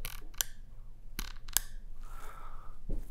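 Rifle scope turret on a Schmidt & Bender MTC, the Marine Corps turret for the M40A3 on a 3-12 PM2, giving a few sharp, distinct clicks and clunks close up, spaced irregularly with quiet between.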